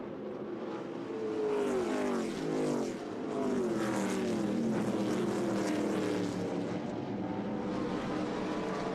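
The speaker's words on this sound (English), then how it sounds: "Dustin Ash locking up the brakes as they race their way off into turns 3 and 4" ARCA Menards Series West stock cars racing at Irwindale Speedway in 2020, braking into turns 3 and 4 late in the race. The engines give a continuous loud roar, with pitches rising and falling as several cars pass.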